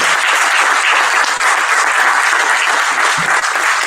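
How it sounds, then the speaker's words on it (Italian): Steady applause from an audience fills the whole stretch, dense and continuous with no pauses. "Bello questo applauso."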